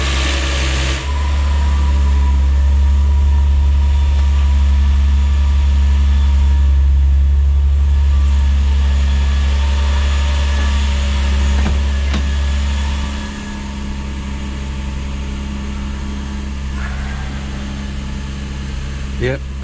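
A turbocharged Lexus IS200 idles steadily on its first start, a loud, close, even drone that carries throughout, with a slight drop in engine note near the end.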